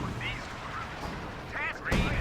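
Mortar volley in a real-time strategy wargame, heard as dull booming impacts under constant talk and battle ambience, with a heavier blast near the end.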